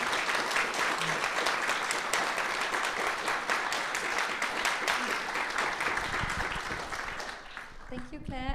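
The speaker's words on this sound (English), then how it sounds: "Can you please join me in giving Juliette a big warm applause for sharing so generously?" Warm audience applause following an artist talk, dense sustained clapping from a seated crowd that fades near the end as a voice begins speaking.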